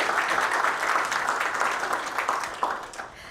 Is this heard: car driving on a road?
no